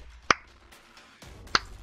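Two sharp, close hand claps spaced about a second apart over quiet background hiss.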